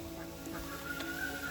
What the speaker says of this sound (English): This is three of our male ducks.